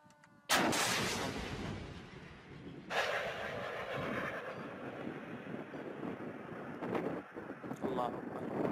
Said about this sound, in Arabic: الصاروخ الثاني استهداف دبابة